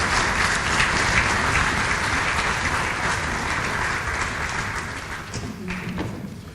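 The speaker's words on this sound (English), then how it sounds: "Another round of applause, please." A lecture audience at an annual lecture applauds at length, a loud, dense roar of many clapping hands that slowly thins and fades toward the end, with a few scattered thuds.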